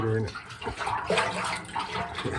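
Water pours out of a Suzuki TL1000R motorcycle petrol tank, a broad splashing gush that runs steadily for a couple of seconds, with a voice briefly heard at the start.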